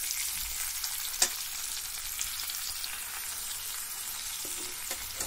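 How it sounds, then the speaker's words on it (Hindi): Potato pieces frying in oil left over from frying pointed gourd, a continuous close sizzle with faint crackles and a couple of light utensil taps, no voices. "इसी बचे हुए तेल में मैं आलू को भी फ्राई कर लेती हूँ।"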